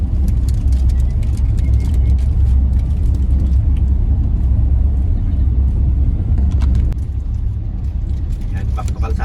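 Cars on a road during a drive to Tarong: a steady, loud rumble of passing traffic and engine noise that continues throughout, with some brief clatter near the end.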